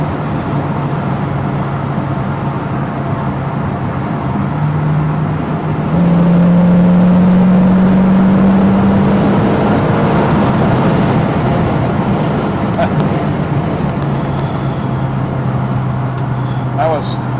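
A 1964 Ford Mustang 289 V8 coupe with automatic transmission cruises at over 70 mph, its engine a steady low drone under road and wind roar from inside the cabin.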